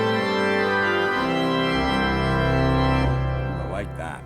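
Yamaha Genos keyboard sounding its Fond et en chaise organ stop, a loud, dense sustained organ chord with deep bass that swells and then releases, with a faint voice entering as the chord fades.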